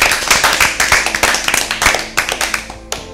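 Brief applause for a team at an Easter Bible quiz, a small group clapping in quick uneven bursts close by, tapering off after about three seconds.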